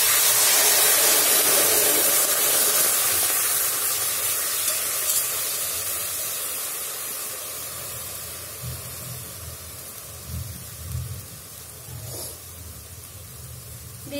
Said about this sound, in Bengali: এবার আমি কড়াইয়ে দিয়ে দিচ্ছি সামান্য জল।